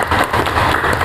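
Classroom applause for a student named Julia during a high school physics lesson: a short burst of many hands clapping at once, steady and fairly loud throughout, with no talking over it.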